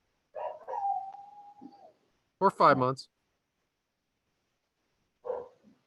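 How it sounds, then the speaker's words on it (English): Neighbor's dog barking outdoors, a couple of quick distant barks and a short whine between patches of someone talking nearby, faint and brief against the conversation. "No, that's my neighbor's dog."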